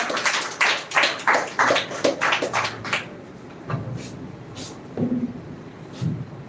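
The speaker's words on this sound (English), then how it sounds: "So clap for our Kumkum aunty." An audience at an English speech competition claps for someone speaker, a burst of brisk clapping for about three seconds, then fading to a few scattered claps and faint murmurs.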